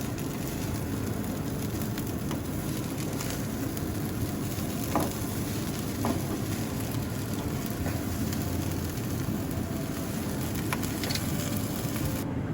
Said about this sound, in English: And give it another good stir.